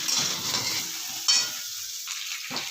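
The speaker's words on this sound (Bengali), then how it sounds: "পটলের সঙ্গে পেঁয়াজ আর লঙ্কাটাও ভেজে নেবো ভালো করে" Pointed gourd frying with onion and chili in hot oil: a steady close sizzle with stirring scrapes in the pan, no voices.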